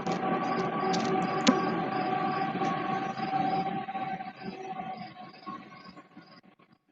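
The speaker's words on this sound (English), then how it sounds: "Train's coming." A train rumbles past at moderate distance, a steady broad roar with rail squeal tones, fading away toward the end.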